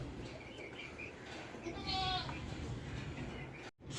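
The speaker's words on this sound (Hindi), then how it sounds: "एक अच्छा भारी फुल आंडू बकरा है" A heavy, uncastrated male goat of about nine or ten months, offered for sale from a home, bleats once. The quavering call is near and clear over a steady hiss of background noise.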